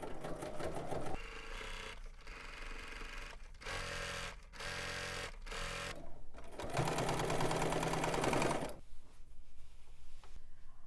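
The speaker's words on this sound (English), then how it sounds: "now we're going to edge stitch this ribbon in place, and I've switched it out to my edge stitch foot" A sewing machine runs an edge stitch along a ribbon with an edge stitch foot, in several steady bursts of whirring stitching separated by short pauses, loud and close, with a longer final run before it stops.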